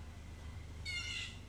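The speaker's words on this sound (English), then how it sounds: "as I hear the birds crowing in the back" A single bird crows outdoors in spring, one brief, harsh call about halfway through, faint over a low steady background hum.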